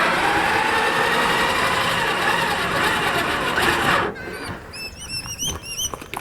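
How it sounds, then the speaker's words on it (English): A winch lifts vehicle wheels fitted with alloy rims, giving a loud, steady mechanical whirr for about four seconds, then stopping into quieter squeaks and clicks. "through use of the winch, we'll lift the wheels up just like this"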